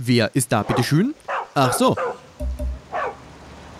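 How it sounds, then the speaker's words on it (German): Dogs barking and yelping in the video game Far Cry 6, several sharp close barks and a whimper mixed in with someone talking over them. "Bellen sich die nur an oder sind die böse?"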